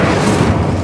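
Incendio fire spell burst in a video game: a short, loud, heavy whoosh-boom lasting under a second.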